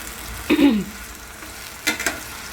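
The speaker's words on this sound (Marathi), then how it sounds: "बटाटे टाकलेत आणि आता हे बटाटे करून आपण हे भाजून घेणार आहोत" Potatoes frying in a pan for sabudana khichdi, a faint steady sizzle with two short bursts of stirring or scraping, heard alone and close.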